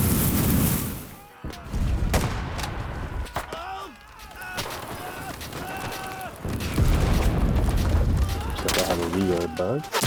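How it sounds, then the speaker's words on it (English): Artillery strike explosions in the World War II shooter game Enlisted, Ruins of Vaux map, boom out amid rattling gunfire and close battle noise in a loud, dense, continuous stretch. "I like this artillery strike."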